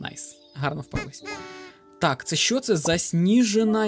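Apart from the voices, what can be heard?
No everyday noises stand out.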